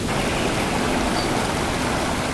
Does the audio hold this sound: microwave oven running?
no